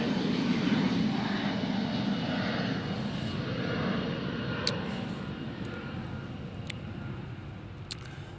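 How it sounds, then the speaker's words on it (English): A propeller airplane passes overhead outdoors, its engine drone loud and steady throughout as it slowly fades, with a couple of faint clicks late on and no voices. "I'm gonna let this plane go by."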